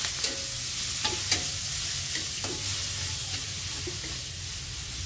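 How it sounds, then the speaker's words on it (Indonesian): A soft, steady sizzle of Indonesian spice paste sautéing in a pan for chicken soto, with a few light stirring clinks over the frying hiss. "Pertama-tama saya tumis bumbunya terlebih dahulu."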